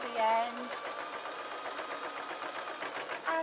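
A sewing machine stitches through wadding and cotton fabric, its rapid, even mechanical chatter running steadily throughout while a person talks over it.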